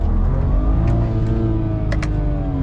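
Drag-tuned street car engine held at a steady 3,000 RPM, a loud, continuous droning rev with a dense low rumble and faint brief squeaks over it, no talking.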